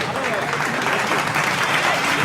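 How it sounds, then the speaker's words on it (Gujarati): Crowd at a Vishwakarma community mass wedding ceremony in Junagadh breaks into steady, dense applause, many hands clapping together close by. "જોરદાર તાળીઓથી આપણે વધાવી દઈએ"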